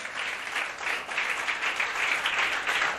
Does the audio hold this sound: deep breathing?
no